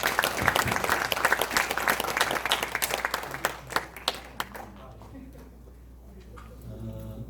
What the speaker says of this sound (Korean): 열정적인 강의를 해주신 우리 김 소장님께 다시 한번 박수 좀 부탁드리겠습니다.